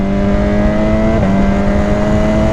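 Engine of a BMW S1000XR motorcycle fitted with a high-flow air filter, a loud close steady drone with a brief dip in pitch midway, as if shifting gear, then holding at an even pitch.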